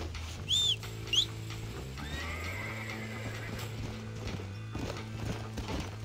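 Horse in Red Dead Redemption gives two short, sharp neighs near the start, followed by steady clip-clop hoofbeats over a continuous low game ambience and music.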